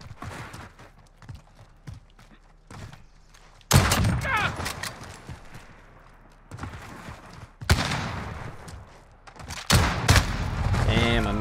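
Sniper rifle shots in a one-on-one online shooter match, several loud sharp cracks spaced seconds apart over quieter game ambience and faint clicks.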